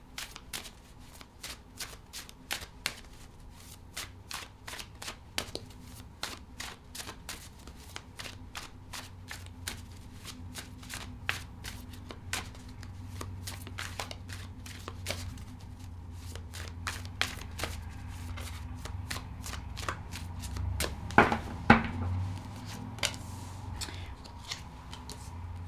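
Tarot cards are shuffled in a steady run of quick riffling flicks, close and crisp, continuing for the whole stretch with a few louder taps near the end.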